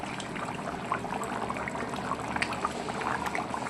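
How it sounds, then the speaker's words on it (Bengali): Chicken and potato curry boiling in a pot, a steady dense bubbling and popping close up with no voices. "আমার তরকারি টকবক টকবক করে ফুটছে বন্ধুরা।"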